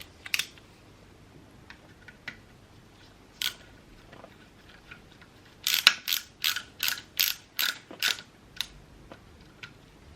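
Driver bit turns a screw into an RC car chassis brace while replacing a prop shaft, giving scattered light clicks, then a close run of about eight sharp ratcheting ticks in quick rhythm.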